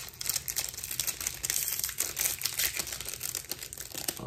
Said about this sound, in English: These I can go ahead and just rip right through them